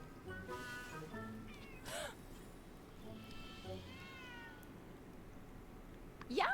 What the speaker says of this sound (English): Yo, stupid cat, get out of here.